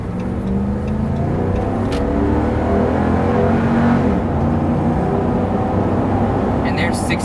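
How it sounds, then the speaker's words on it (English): A 2012 RAM 1500 Lone Star Edition 4x4 Hemi pickup accelerating hard on a highway, a loud, continuous rising V8 engine roar heard from inside the cab. "we'll go ahead and pull out here and put our foot down and see what it'll do."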